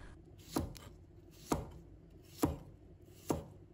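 A slim cucumber being chopped into small pieces on a board: four crisp, distinct knife chops at an even, unhurried pace, close and clear over a quiet background.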